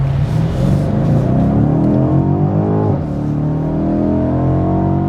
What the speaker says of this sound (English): That is a sweet sound, and that is a fast car.